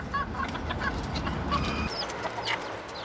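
A hungry bantam mother hen clucking nearby, a series of short soft clucks over faint farmyard background, no talking.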